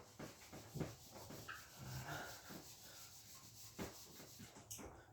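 A cloth or eraser wiping writing off a board, several soft scrubbing strokes in short bursts, faint and close, with no talking.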